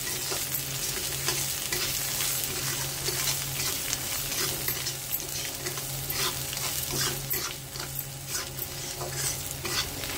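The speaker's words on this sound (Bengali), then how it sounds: "দিয়ে এখন এই মশলাটাকে ভালো করে কষিয়ে নেবো, হালকা আঁচে, মানে মিডিয়াম আঁচ করে ভালো করে কষিয়ে নেবো।" Spices for a vegetarian Bengali moong dal khichuri sauté over medium heat, a steady close sizzle with frequent scraping stirs of a spoon against the pan and no talking.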